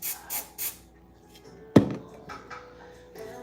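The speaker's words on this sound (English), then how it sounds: "I spray my tail." Several short hisses of hair spray on a wig, three quick bursts at the start and a few softer sprays later, with a sharp knock partway through; no voices.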